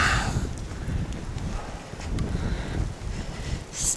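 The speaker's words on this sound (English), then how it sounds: "Wind is really bad." Strong wind gusting during a heavy 2010 Maryland blizzard, a steady, rough roar with low rumble and buffeting against the microphone, no voices over it.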